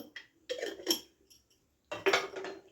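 A spoon clinks against a cooking pot in two short bursts of metallic taps as salt goes in for Odisha kormabai khichdi with mung dal, close and quiet with no talk.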